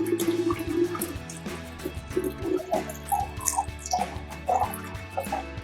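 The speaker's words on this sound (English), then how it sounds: "now we're just going to fill the pitcher with filtered water" Filtered water poured into a pitcher for homemade orangeade, a gurgling, dripping stream that rises and falls in bursts close by, with no talking.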